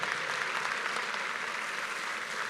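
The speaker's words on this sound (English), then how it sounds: "Now let's give all the winning projects, the department directors and team members a huge round of applause" Audience at a county awards ceremony applauding the winners, a dense, even wash of clapping that holds steady throughout.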